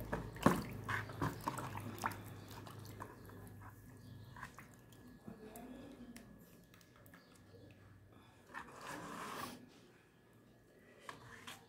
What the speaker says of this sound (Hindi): हाथों को सादे पानी से साफ करेंगे।